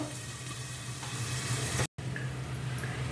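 Onions fry slowly on low heat in a pan, giving a steady, even sizzle that breaks off briefly near the middle before carrying on.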